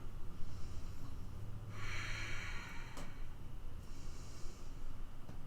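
Slow, deep yoga breathing held in reverse warrior pose, airy inhales and exhales drawn through the nose, close and fairly soft, with no talking.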